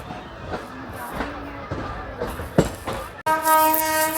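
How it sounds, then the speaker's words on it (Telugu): A train rolls past on the line near Vijayawada, a steady rushing roar with clattering bursts, then a loud close horn blast of sustained harmonic tones near the end. "ఏదో ట్రైన్ మనకి క్రాస్ చేసుకుంటూ వెళ్తుంది"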